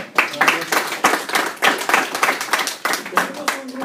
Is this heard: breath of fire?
no